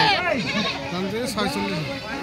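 Goats bleating at a busy village goat market in Bangladesh, several wavering calls rising and falling close by, mixed in with ongoing talk among buyers and sellers.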